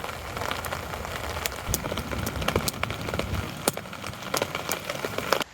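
Rain falls steadily outdoors at a wild woodland camp in the UK with a tarp and tent, as dense pattering and dripping on surfaces with scattered louder drops, close and continuous with no voices.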